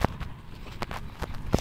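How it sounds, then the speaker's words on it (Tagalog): Horse hooves clip-clopping on a children's farm, a few scattered near thuds with a hoofbeat at the start and end, faint and spaced out amid light outdoor background noise. "Ayan na yung kabayo."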